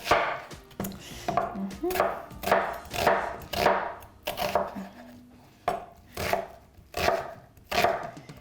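Onion and garlic being diced with a knife on a board, a run of sharp, fairly regular chops close by, spaced roughly two per second with brief pauses between them.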